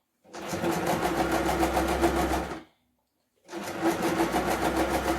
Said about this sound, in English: So you start sewing your bias trimming